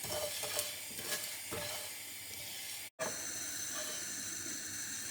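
Coriander and cumin seeds dry roasting in a pan over a low flame give a steady, close hiss with faint stirring scrapes, broken by a brief dropout near the middle.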